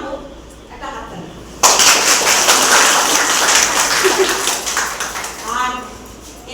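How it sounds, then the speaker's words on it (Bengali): Applause breaks out at a Teachers' Day celebration in Mohammad Bazar honouring the teachers: a voice speaks first, then a crowd's dense, sustained clapping takes over and continues steadily, with speech faintly underneath. "তো ওনাদেরকেও আমাদের তরফ থেকে প্রথমেই জানাবো একটা হাততালি।"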